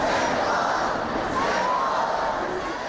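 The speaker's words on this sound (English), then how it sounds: "with repeated shouts of retract, it was clear that a suspension wasn't enough" A large protest crowd in Hong Kong, demonstrating against the extradition bill, keeps up a dense, sustained roar of voices and shouting that fills the whole stretch without a break.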